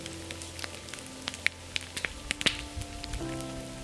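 Light rain falls steadily outdoors, with scattered drops tapping sharply and unevenly on a surface close by over a soft hiss, and no one speaking.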